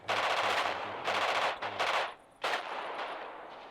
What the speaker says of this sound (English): They're engaging out here at the bridge. Troops are still on the beach. This time the enemy are shooting down.